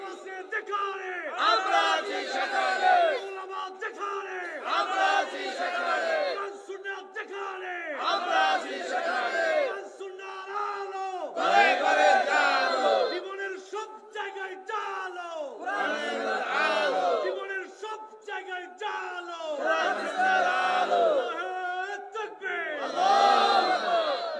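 A large crowd at a religious gathering in Narsingdi roars a chanted takbir in unison, repeated loud rhythmic shouted waves that swell and fall over about twenty seconds, close and massed.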